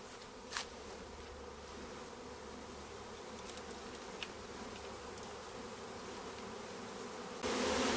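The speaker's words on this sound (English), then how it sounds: "We come across this bee swarm right here, and as you can see, we shook them into the box." A bee swarm shaken into a box buzzes in a dense, continuous hum, close and steady, with a few brief knocks and a louder rustle near the end.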